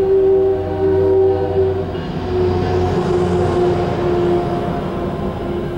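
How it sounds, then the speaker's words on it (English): Train running at night with a nearly empty car, a continuous loud rumble and rattle of the carriage in motion, with steady tonal whine and hum throughout and no voices. "It's like an empty train."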